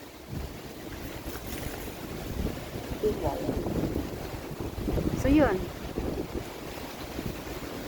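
Strong, cold winter wind in Korea buffets the microphone in steady gusts, with a brief voice speaking partway through.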